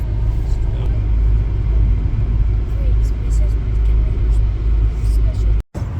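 Interior of a car driving along a road in Morocco towards Merzouga, a loud continuous low engine and road rumble with a brief dropout near the end, while someone talks over it.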